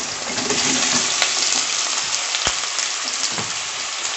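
Large and small onions are sautéed with salt in a pan, giving a steady, loud frying sizzle throughout with a few brief clicks.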